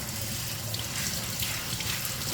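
Rice being rinsed under running water, a close, steady splashing gush filling the whole moment without pause.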